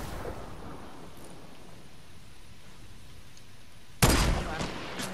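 A grenade explosion in Fortnite bursts suddenly and loudly out of a steady rain-like hiss and rumble, then decays over about a second, with faint game noise continuing.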